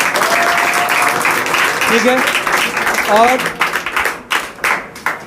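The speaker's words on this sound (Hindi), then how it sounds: "इसके लिए तुम लोग एक बार मेरे तरफ से अपने लिए ताली बजा लो सारे लोग" Students applaud together at a Teachers' Day event at an academy in Madhubani, a dense round of clapping that fades into scattered claps, with people talking over it.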